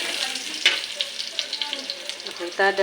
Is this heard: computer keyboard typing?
no